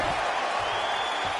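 MMA fight crowd applauding and cheering after a round, a dense, steady wash of clapping and voices at moderate volume.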